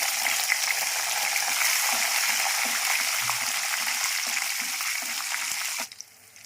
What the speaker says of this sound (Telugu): ఆవాలు చిట్పటా చిట్పటా అనాలి ఇప్పుడు ఎండుమిరపకాయలు వేసుకున్నాం